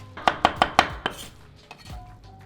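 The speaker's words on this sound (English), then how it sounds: "Chop that up." A knife chops soft, wilted spinach on a cutting board in five quick, sharp strikes, then a few lighter, scattered taps follow, close and clear.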